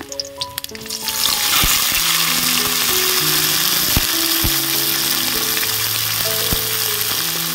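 Tomatoes tipped into a pan of frying onion and garlic for tomato chutney burst into a loud, dense sizzle after a few clattering drops, then hiss steadily up close with occasional scraping knocks; no one speaks.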